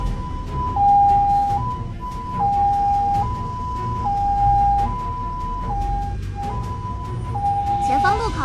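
An ambulance siren on a city emergency run in morning rush-hour traffic, a loud two-tone wail alternating high and low at a steady rhythm, repeated many times over a low road rumble.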